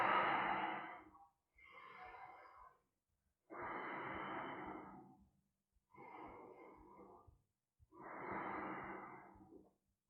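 Slow, deep breathing held in a yoga pose during a class: five long, close breaths in and out, each lasting over a second with short quiet gaps between, steady and unhurried with no talk.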